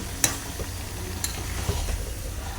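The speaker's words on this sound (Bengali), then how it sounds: "অল্প করে আমার সব পাতাকপিগুলো দেওয়া হয়ে গেছে, ভালো করে কষিয়ে নেব" Cabbage stir-frying in a pan, meant to be cooked down thoroughly alongside beef, giving a steady close sizzle broken by a few sharp scraping stirs of a utensil against the pan.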